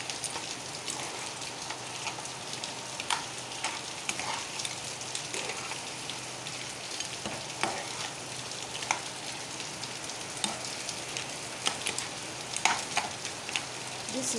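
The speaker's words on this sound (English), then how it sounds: "and a little more palm oil. And I give it a stir." Palm oil is stirred in a pot of Afang soup, giving a steady close crackling sizzle with scattered small pops and scrapes throughout, and no voices.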